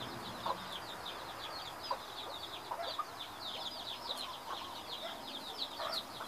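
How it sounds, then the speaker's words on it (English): Jungle fowl hens in Hawaii cluck softly while a crowd of chicks peep constantly in high, thin chirps, all at a moderate distance with no talking. "At least these two hens get along real well with their chicks."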